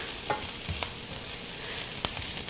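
Onions and mushrooms fry in a pan with a soft, steady sizzle. A few sharp scrapes of stirring cut through it, and the sound stays close and fairly quiet.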